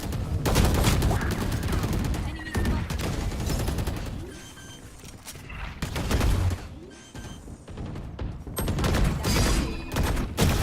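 Rapid gunfire from a shooting video game, with dense bursts of automatic fire and scattered single shots filling the whole stretch at close range and high volume, with brief lulls between volleys.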